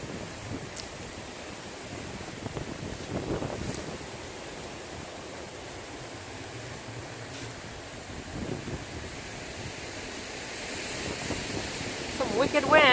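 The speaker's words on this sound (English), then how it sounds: "Some wicked wind" Strong wind blowing along the Appalachian Trail: a steady rushing, buffeting roar with gusts swelling louder toward the end, heavy microphone wind noise, no clear speech.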